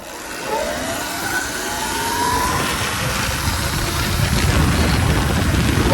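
A Surron electric dirt bike with a stock battery pushed to about 5,000 watts launches at full throttle, a close motor whine and rushing wind and tire noise building steadily louder over a few seconds.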